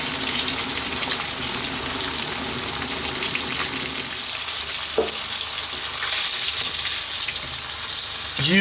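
Fish pieces deep-frying in hot oil for a Chinese restaurant-style dish with oyster sauce, a loud, dense, continuous bubbling sizzle close up, with a brief clatter midway and no talking.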